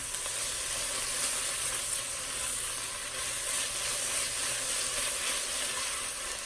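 Onions and thyme frying in a pan, a loud, steady, dense sizzle and hiss that holds evenly from start to finish, close up and without speech.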